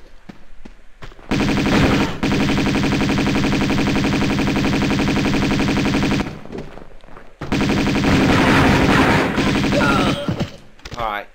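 Long continuous bursts of Uzi fire in Tomb Raider II Remastered, loud rapid rattling that runs for several seconds, stops briefly, then resumes, with a voice before and after.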